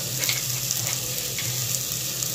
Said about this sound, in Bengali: এর মধ্যে দিয়ে দেওয়া হলো হলুদ গুঁড়ো, দিয়ে ভালো করে কিন্তু নাড়িয়ে নেওয়া হচ্ছে